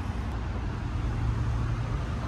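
A used car's engine runs during a short test, giving a steady, close, low rumbling idle with a constant broadband hum and no revving.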